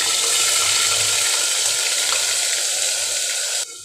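Onion paste hits hot oil already crackling with cumin seeds, giving a loud, steady sizzle and hiss close up that drops off sharply at the very end.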